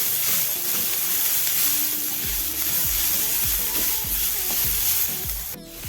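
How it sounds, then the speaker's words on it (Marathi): Chopped onion fries in oil in a pan for a spicy chicken rassa, a loud continuous sizzle with a spatula scraping and stirring in repeated strokes, close by. "कांदा चांगला फ्राय होतोय आपला"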